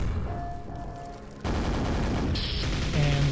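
Rapid nail gun fire from Quake Enhanced Edition, the 2021 remaster, cycling through weapon variants in a steady stream of dense, loud mechanical shots with brief tonal blips layered on top.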